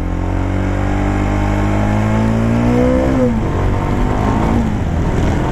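SWM Superdual 650 T single-cylinder supermoto-trail motorcycle accelerating with a steady rising engine note that drops at a gear change and then keeps pulling, loud and close over heavy wind rush.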